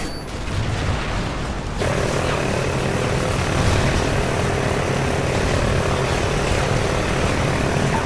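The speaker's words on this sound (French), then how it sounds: "Les A10 sont en position et prêts à intervenir." An A-10 attack aircraft in Call of Duty Ghosts roars in with a steady propeller-like engine drone that swells louder after a couple of seconds and holds, with no talking over it.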